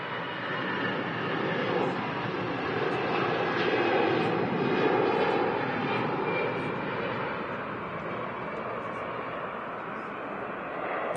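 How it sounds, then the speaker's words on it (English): An EasyJet Airbus A320 departs Manchester Airport for Lisbon with a powerful, continuous jet engine roar that swells slightly in the middle and stays loud and near throughout. "Heading off to Lisbon, the EasyJet A320 Tango Hotel."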